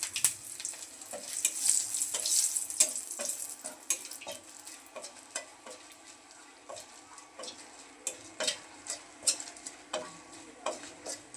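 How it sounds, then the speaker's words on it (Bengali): Dried red chillies frying in hot oil after fish, a busy crackling sizzle up close that later thins into sparse sharp pops and spits against a quiet background, with no voices. "এখন ওই তেলে শুকনা লঙ্কাগুলো ভেজে নেব।"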